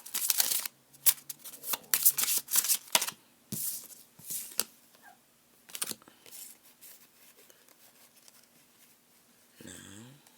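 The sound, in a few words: shuffling playing cards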